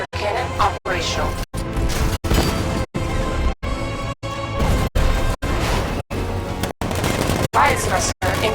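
Repeated heavy tank cannon blasts in Batman: Arkham Knight boom at a steady rhythm, each cut off sharply, loud and close over a dense game soundscape.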